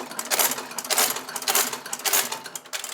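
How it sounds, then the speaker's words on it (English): A sewing machine stitches saddle leather in a repair shop, a loud rapid clatter swelling and easing in repeated bursts with no voices. "How old is your sewing machine?"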